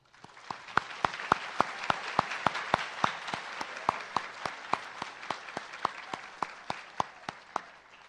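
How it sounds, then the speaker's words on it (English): Graduation ceremony audience applauding faculty and staff in a large hall, sustained crowd clapping with one loud, regular nearby clapper standing out in an even rhythm throughout. "please join me in a recognition applause"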